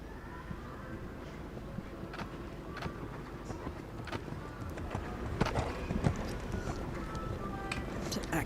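A horse cantering actively through a senior eventing dressage test at a European championship, its hoofbeats a soft, steady, distant rhythm beneath arena ambience and commentary.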